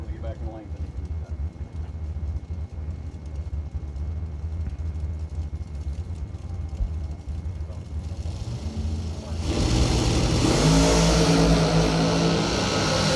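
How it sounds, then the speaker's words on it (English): Drag racing cars at a Christmas bracket event rumble under a commentator's talk, then the engines rip loudly as the throttle opens on a double breakout, with a sustained roar of acceleration down the lane. "Ripping the throttle on the double breakout."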